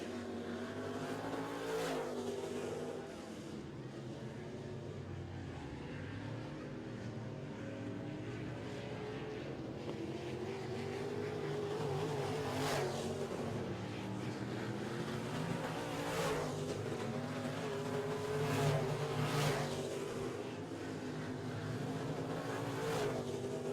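Midwest Modified race cars running a heat race on a track, engines droning loudly and continuously with rising and falling revs as the pack passes, no talk over the roar.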